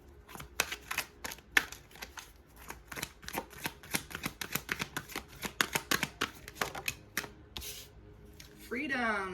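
Mermaid tarot cards being shuffled in a rapid run of crisp riffling snaps and flicks, close and fairly quiet, with no talk, ending in a brief rising swish.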